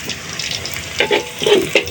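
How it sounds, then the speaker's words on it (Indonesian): Shallots frying in a pan of hot oil, a steady loud sizzle with bursts of crackling and popping throughout, no voices. "Kita goreng bawang goreng dulu"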